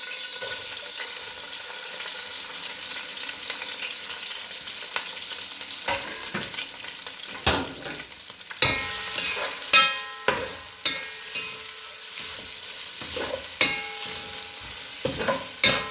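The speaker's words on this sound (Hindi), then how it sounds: "2 से 3 मिनट चिकन को भूनेंगे" Boiled, shredded chicken stir-fries with cumin seeds in oil, a steady sizzle broken by repeated sharp scrapes and clatters of a spoon against the pan, loud and close with no talking.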